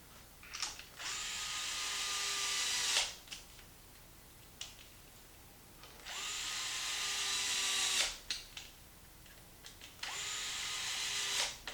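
A power drill drives a bit on an X-Maxx RC car during rear differential removal: three separate whirring bursts of about two seconds each, with small clicks between them, close and fairly quiet.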